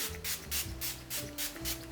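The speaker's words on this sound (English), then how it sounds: "the one I'm using today is from Golden Rose Makeup Fixing Spray." Golden Rose makeup fixing spray misted onto a face in a series of short, close hissing bursts, about five quick sprays in a steady rhythm with brief gaps between them.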